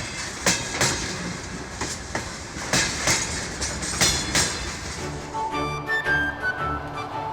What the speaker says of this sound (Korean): 짧은 휴식을 뒤로하고 열차는 다시 이동을 시작합니다.